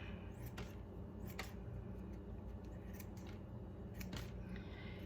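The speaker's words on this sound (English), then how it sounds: "just cut it into small pieces with my scissors" Scissors snip dried reishi (Ganoderma lucidum) mushroom fruit bodies into small pieces, a handful of quiet, crisp cuts spaced a second or so apart over a low background hum.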